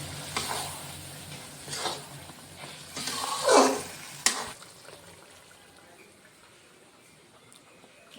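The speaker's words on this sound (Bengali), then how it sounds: "একটু নাড়াচাড়া দিয়ে একটু হলে পরে আমি নামিয়ে নেব" Pointed gourd coated in mustard and poppy seed paste is stirred in a pan: several scraping bursts over a soft sizzle, then a sharp knock before the frying fades to a quiet hiss.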